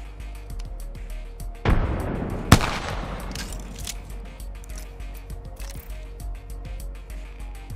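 A frag grenade explosion in Apex Legends, a video game, lands as a sudden loud broadband burst followed by a sharp crack and a rumbling decay. Faint clicks and game sounds continue afterward.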